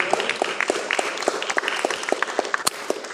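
A church congregation claps together in acclaim of God during a Sunday evening praise service, a dense, rhythmic burst of applause from a crowd in a hall, steady and lively throughout.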